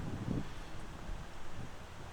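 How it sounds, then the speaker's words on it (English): Steady wind gusts across an outdoor disc golf course during a women's tournament round, a continuous broadband rush that swells and eases with no voices present. "This is definitely the windiest part of the day right here."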